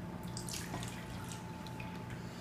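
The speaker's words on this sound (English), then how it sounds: "So the assistant put in 2 cups of milk, and now we're going to pour it in the bowl." Milk pours steadily into a bowl while making chocolate pudding, a soft continuous liquid stream with faint splashy trickles, fairly quiet and heard alone.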